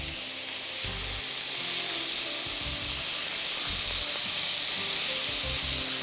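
Chicken breast fillet frying in a pan gives off a steady, loud sizzle with hissy steam that runs unbroken throughout, and no one speaks over it.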